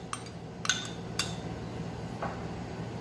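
Metal spoon clinks and taps against a dish as parsley is added to a kebab mero tahini salad, a few sharp, close clicks spread over a quiet kitchen background.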